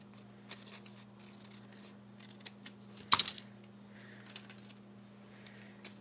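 Scissors snip paper for an urban-themed journal cover, a few soft scattered cuts and one sharper, brief burst of crisp snipping mid-clip, over a steady low electrical hum with no talking.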